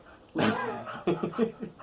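A puppy whimpers and yips in short, soft bursts close by, with brief breathy gaps between the sounds.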